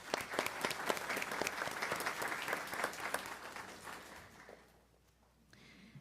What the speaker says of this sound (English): Let's give a round of applause to our students and our early childhood education teammates